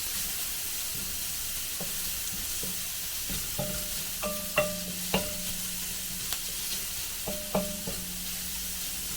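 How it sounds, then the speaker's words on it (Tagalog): Onion and ginger sautéing in a pan for beef stew, a soft continuous sizzle with light clinks and taps of a utensil against the pan, close by and with no one speaking. "Gigisahin na natin ito mga kaberk."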